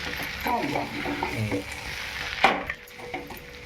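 Sizzling of sago pearls stir-frying on a pan for khichdi, with scraping and stirring strokes, a louder clatter midway, then a quieter fry continuing; close and steady, no talking.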